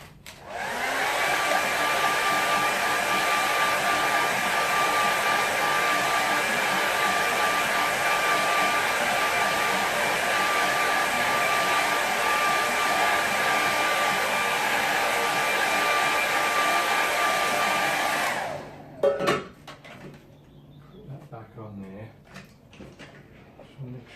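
A hair dryer blows steadily and loudly on a watercolour painting for about eighteen seconds, then cuts off, leaving faint handling clicks and small knocks afterward.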